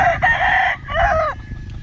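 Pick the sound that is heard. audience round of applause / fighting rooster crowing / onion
fighting rooster crowing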